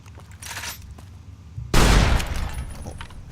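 An explosive incendiary gun in Fallout New Vegas cuts loose after quiet, scattered noises, firing a loud, booming burst of rapid shots that trails off into rumbling echoes.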